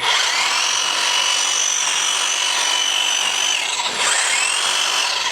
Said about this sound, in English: definitely also works for normal bush trimming